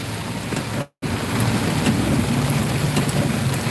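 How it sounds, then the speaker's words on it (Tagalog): Loud, steady heavy rain pouring down in General Trias, Cavite, with dense hissing, broken by a brief gap of silence near the start. "Grabe ang ulan. Sobrang lakas."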